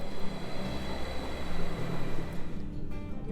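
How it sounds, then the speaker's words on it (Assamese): A train pulls into a station in Germany on the Lemgo to Paderborn route. A steady, fairly loud rumble and rolling noise fills the whole stretch with no talk. "এইখন আহিলে আমাৰ ট্ৰেইন"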